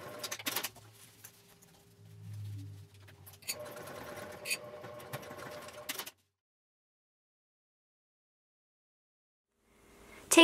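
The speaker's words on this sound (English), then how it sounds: "you'll top stitch the grab tab in place with a quarter inch seam allowance" A sewing machine top stitching a bag's grab tab with a quarter-inch seam allowance, running in a steady whirring burst for about six seconds, then stopping into silence.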